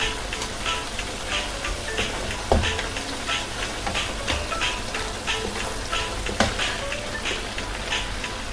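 Pork, chicken powder, pepper and bay leaves being stirred in a pan for pork and tongue igado, a steady soft sizzle with scraping stirs and two sharper clinks of the utensil against the pan.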